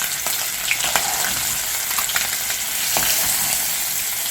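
Pangas fish frying in hot oil in a pan, a loud, continuous close sizzle with crackling pops and occasional stirring scrapes.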